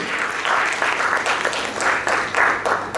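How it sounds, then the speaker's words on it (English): A conference audience at the closing ceremony of Discuss Agile Conference Bangalore 2016 claps loudly in uneven swells, continuous applause filling the hall without speech. "I think we can give a round of applause for these guys"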